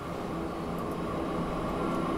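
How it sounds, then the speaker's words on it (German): A train pulls slowly into a station in the rail-building game Transport Fever 2. Its steady low rumble and rolling hum are fairly faint and continuous, with a few faint high squeaks, and no one speaks. "Schön, wie der Zug hier reinfährt."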